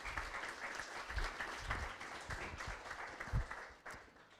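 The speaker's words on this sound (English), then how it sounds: "One more applause for Andreas here." Audience at a cyber security meetup applauding a presenter, a steady wash of many hands clapping at moderate level with a few louder claps standing out, no talk over it.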